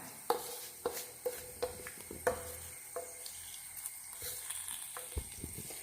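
Chili powder and turmeric frying in hot oil for a Kerala pumpkin curry: faint, sparse pops and sputtering crackles at close range, with no one talking.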